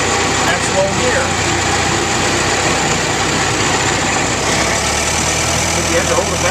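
An antique car engine running on magneto ignition idles steadily at a spring auto show at a transportation museum, a close, continuous rumble with no talk over it.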